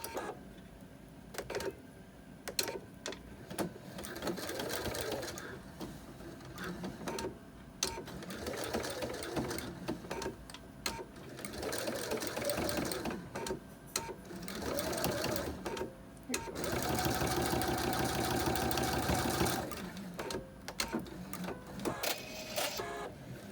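Sewing machine top-stitching the upper edge of a fabric pencil holder, a steady mechanical whirr running in bursts with short pauses and one longer sustained run, close and fairly loud.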